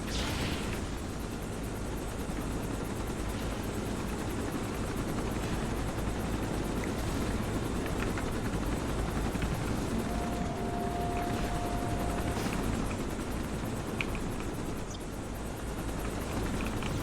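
Transport aircraft arriving in the video game Champions Online, a steady loud rotor-like roar with low engine rumble that persists throughout, with a brief whine in the middle.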